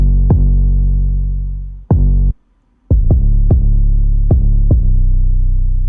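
An 808 bass in a beat booms as deep, sustained sub notes, struck about eight times in an uneven rhythm with one short gap of silence, loud and alone.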